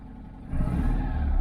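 A Citroen Acadiane's engine runs on choke, a low steady rumble that steps up suddenly in loudness partway through as the revs rise, then holds a firm, even hum.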